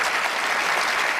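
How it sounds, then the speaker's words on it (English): An audience at a Bernie Sanders event claps steadily, a short burst of loud, dense applause with no speech. "Why are you clapping for politeness"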